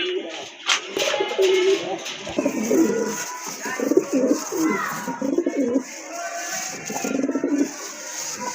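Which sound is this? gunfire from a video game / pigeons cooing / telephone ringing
pigeons cooing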